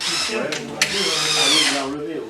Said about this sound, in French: Faire les trous dans le chêne